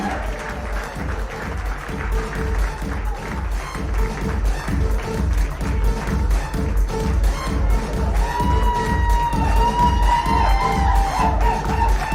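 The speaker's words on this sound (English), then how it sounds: "So we saw a lot of people cheering for him." A crowd at a corporate long service awards ceremony applauds and cheers an award winner, with steady sustained clapping and scattered shouts throughout, and whoops rising toward the end.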